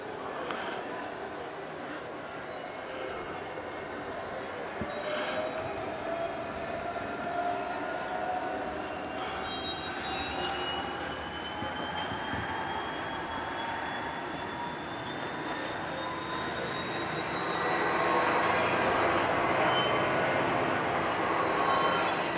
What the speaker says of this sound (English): that one over there is pulling a train